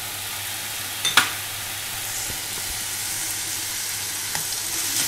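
Sesame seeds and peanuts sizzle in a hot pan with spicy zucchini noodles, giving a constant close crackling hiss punctuated by a few sharp clinks and taps.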